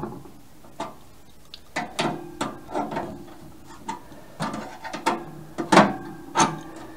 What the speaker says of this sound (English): This is not the appropriate tool for removing machine screws, but it's working.